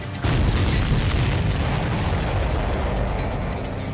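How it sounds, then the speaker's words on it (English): In the PS4 combat flight game Ace Combat 7: Skies Unknown, a missile strikes its target and explodes in a sudden loud boom that holds as a dense, roaring blast for several seconds. "Missile hit!"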